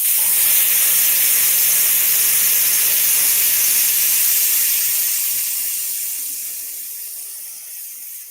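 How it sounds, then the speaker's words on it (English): An airbrush spraying gloss varnish over artwork cards gives a steady, close, high-pitched hiss that slowly fades over several seconds, with no voices. "So the noise from the airbrush"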